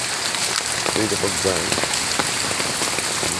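Heavy rain pours down steadily outdoors among garden plants and flowers, a dense, unbroken hiss that fills the whole stretch, with a voice speaking briefly over it.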